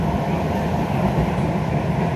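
Inside a Miami Metrorail Green Line train in motion, a loud steady rumble and roar of wheels on track fills the car without pause.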